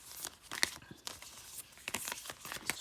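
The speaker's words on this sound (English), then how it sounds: "I'm just going to shuffle them up a little bit" A deck of tarot cards is shuffled by hand, giving soft, crisp riffling and flicking bursts in quick, irregular succession, close and fairly quiet.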